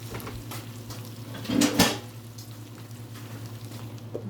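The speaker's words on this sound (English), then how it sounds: "put a lid on it, and let that be it" A metal lid clanks once onto a cooking pot on a stovetop, a short close clatter around the middle, with low simmering hiss and a steady background hum before and after.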